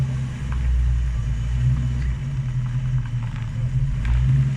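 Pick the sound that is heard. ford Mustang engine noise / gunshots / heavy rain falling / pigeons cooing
ford Mustang engine noise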